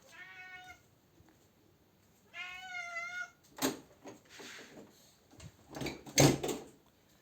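A cat meows twice, clear drawn-out cries close by, followed by some clattering and knocking noises like something being moved or shut.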